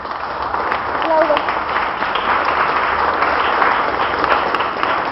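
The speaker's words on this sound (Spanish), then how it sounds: "denle un aplauso a Jesús" A church congregation applauding during a Christian service, a loud, dense, continuous burst of many hands clapping at close range that holds steady for about five seconds, with faint voices mixed into the crowd.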